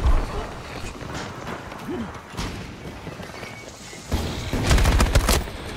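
Gunfire in Battlefield 2042: sporadic sharp shots give way to a dense burst of rapid firing near the end, with players talking in Turkish throughout.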